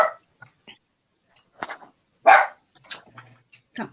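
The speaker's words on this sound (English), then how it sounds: "Sorry if my dog barks." A pet dog barking and whimpering indoors during a live stream, several short sharp yips and barks in an irregular burst against a quiet room.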